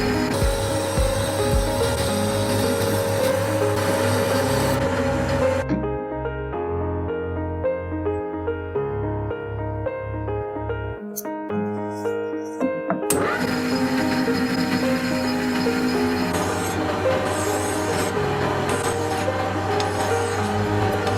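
A Scotch-Brite pad rasps steadily against a spinning stainless steel and copper billiard ball on a lathe, a loud broadband scrubbing that stops briefly mid-clip and then resumes, with music playing throughout.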